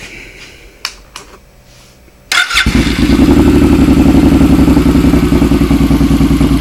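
A 2006 Suzuki M109R (VZR1800) motorcycle has a couple of sharp clicks before the engine fires with a burst, then settles into a loud, steady, deep rumbling idle that runs to the end.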